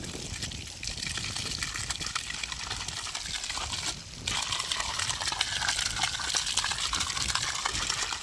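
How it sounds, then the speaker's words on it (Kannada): Continuous rushing, gurgling flow of water through drip irrigation pipes close by, steady throughout with a brief dip midway. "ಯಾವ ಥರ ನೀರು ಹೋಗುತ್ತೆ ಅಂತ ಬರೀ ತೋರಿಸ್ತೀವಿ"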